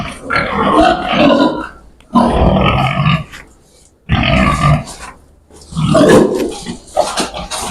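Loud, close pig grunts and squeals in four long, harsh bursts separated by short pauses, as the pigs are called over to be given injections.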